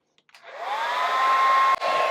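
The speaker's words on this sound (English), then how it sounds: "Will it run a hairdryer?" A hair dryer powered by a portable power station in an RV clicks on and spins up into a loud, steady whooshing whine with a faint tonal hum, briefly dipping once before continuing, with no talking.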